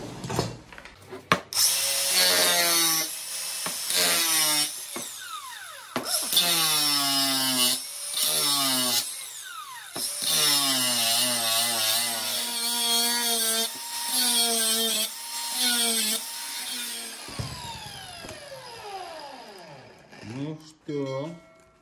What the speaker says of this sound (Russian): попробуем так. Болгаркой.